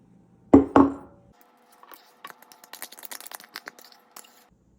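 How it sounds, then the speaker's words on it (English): A knife chops cherry tomatoes on a board in a home kitchen: two sharp, loud thuds, then a string of lighter, quick cuts and taps spaced irregularly, with no talk. "I have to use up these cherry tomatoes. I'll chop them up."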